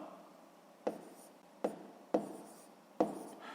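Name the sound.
writing numbers on paper during math exercise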